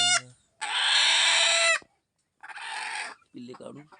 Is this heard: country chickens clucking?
yes